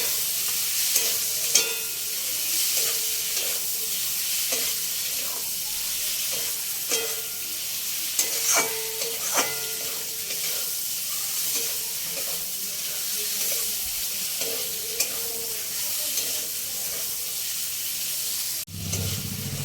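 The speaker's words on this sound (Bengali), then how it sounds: "পটল দিয়ে ভালো করে কষিয়ে নিয়েছি" Pointed gourd sautéed and stirred with spices in a pan: a steady broadband sizzle runs throughout, punctuated by irregular spatula scrapes and clicks against the pan, close and fairly loud with no talking.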